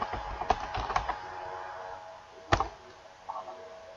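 Quiet, sparse keystrokes on a computer keyboard while working in Excel: a short burst of clicks, a pause, then a sharper single tap and a few softer presses.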